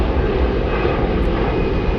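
A Condor Airbus A330 jet airliner at Frankfurt airport gives a steady, loud broadband engine roar throughout the short stretch, with no voices.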